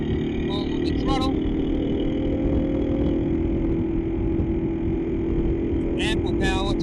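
A Kawasaki KLR 650 motorcycle holds highway speed with a loud, steady engine drone and wind rush throughout, with faint brief vocal sounds at the start and end.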